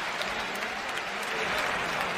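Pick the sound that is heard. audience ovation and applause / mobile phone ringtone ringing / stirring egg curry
audience ovation and applause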